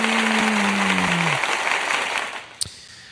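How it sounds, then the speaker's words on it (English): Canned applause fired from a soundboard button at the close of a live noise-music show, a broadband wash of clapping over a fading low tone, tapering off with a brief sharp click near the end. "One last little fucking round of applause."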